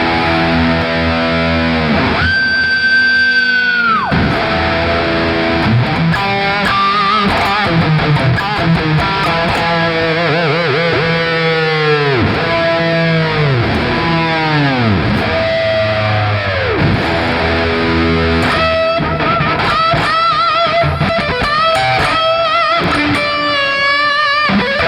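A heavily distorted 1991 Ibanez RG560 electric guitar plays loud, continuous chords and bends, with sustained notes and dense, saturated tone throughout.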